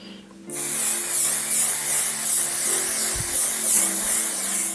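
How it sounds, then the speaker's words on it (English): A steady, close hiss of a mattifying waterproof makeup setting spray runs continuously for several seconds after a brief quiet start, with a faint low thump partway through. "This is the mattifying waterproof setting spray."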